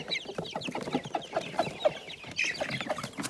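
Brahma chickens clucking in a homestead coop during the morning routine, giving soft, repeated low clucks and murmurs close by, fairly quiet and without talking.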